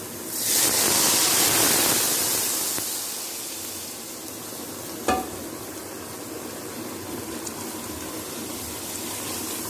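A loud burst of hissing sizzle as a tempering hits hot oil over chicken for pulao, fading to a steady quieter crackle, with a brief clink midway.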